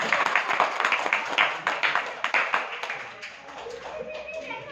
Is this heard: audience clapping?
yes